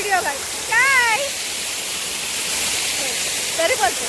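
A waterfall visited on an outing gives a steady, full rushing roar throughout, with brief voices rising over it at the start and again near the end.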